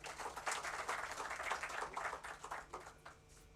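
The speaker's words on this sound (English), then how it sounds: "Please give a big round of applause to sir." Scattered audience clapping at a college valedictory function on robotics and automation, quiet and somewhat distant, with uneven bursts of hands across a few seconds.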